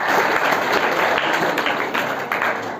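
Students at a career guidance program for 12th-grade pupils give a guest speaker a full, dense round of applause, steady and loud from start to finish.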